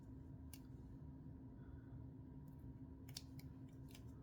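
Scissors snip knots off beading thread at close range, several sharp metallic cuts spaced irregularly over a steady quiet background, no talking.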